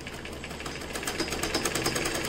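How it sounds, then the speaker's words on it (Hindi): A sewing machine runs steadily while stitching along the corner of a square neckline, a close, even mechanical whir that speeds up slightly toward the end, with no talking. "इस प्रकार आप सिलाई लगाएंगे"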